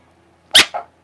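A single sharp bark followed by a softer second yelp, close and loud against a silent background, from a dog at home.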